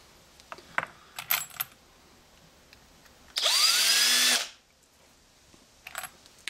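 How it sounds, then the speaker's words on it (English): A power tool whirs steadily for about a second while deburring the outside of a .30-30 Winchester brass cartridge case, with a few small clicks and handling taps before and after. "then just deburr the outside"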